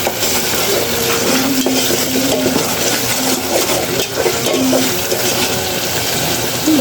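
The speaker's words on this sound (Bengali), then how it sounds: "এখন এগুলোকে আর একটু ভেজে নেব।" Ginger, garlic and whole spices frying in a pan for a beef and new potato curry, a loud continuous sizzle with stirring scrapes and utensil clinks, close up and with no voices.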